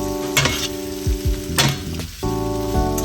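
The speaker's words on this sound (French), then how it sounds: "N'hésitez pas à les faire tourner dans votre beurre." Green beans sizzle steadily in hot butter with garlic and shallot in a pan, broken by several clattering stirs and tosses that scrape and thump against the pan, close and clear with no talking.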